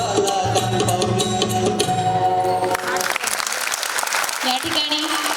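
An audience at a school annual gathering applauds a dance by young children, broad clapping running throughout, mixed with lingering music tones and voices at the start.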